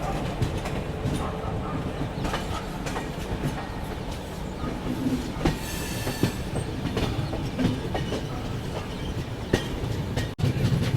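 Kalinga Utkal Express running on Indian railway tracks, heard from on board as a continuous close rumble with rhythmic clickety-clack of wheels over rail joints, steady throughout with a brief dip near the end.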